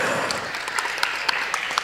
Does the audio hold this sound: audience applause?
yes